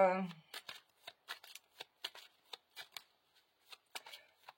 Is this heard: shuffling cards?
yes